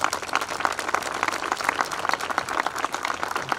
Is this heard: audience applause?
yes